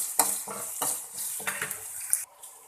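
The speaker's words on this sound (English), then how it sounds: "We will cook the onion until it gets soft. I am adding little curry leaf." Chopped onion and curry leaves cook in a pan: repeated scraping stirs with metallic clinks of a utensil over a soft sizzle, close and fairly loud.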